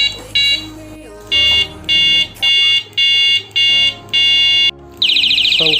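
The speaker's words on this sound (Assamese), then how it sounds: "আহকচোন হৰ্ণটো এবাৰ চেক কৰি চাওঁ কেনেকুৱা।" Electronic horn on a newly unboxed gadget being tested, giving a series of short, loud beeping bursts in an even rhythm, followed by a harsher continuous buzzing tone at the end.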